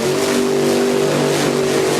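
Funny Car drag racing engine revving loud and steady at the starting line of a Funny Car final, a constant dense roar with strong harmonic drone and no gaps, close and alone without voices.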